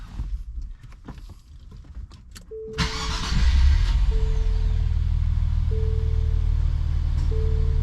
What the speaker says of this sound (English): I'm going to plug it in and then make sure that the unit will start the vehicle.